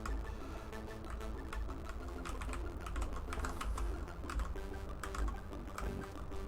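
Commodore 64 computer keyboard keys pressed quickly while playing Rainbow Islands, a dense, steady run of close, crisp plastic clicks and clacks with no talking.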